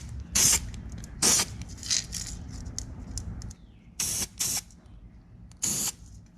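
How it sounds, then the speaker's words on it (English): An aerosol can of E-coat primer sprays onto a rust repair on a car body in several short, sharp hissing bursts, each about half a second, separated by quieter handling noise. "Now we're going to take this E-coat primer and we're going to spray it in here the best we can."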